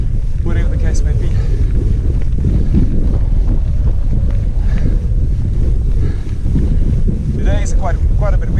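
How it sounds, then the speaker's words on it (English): Strong wind buffets the microphone in a constant roar during a cross-country mountain bike race, with a few brief squeaks and faint voices underneath. "Today is quite a bit windy."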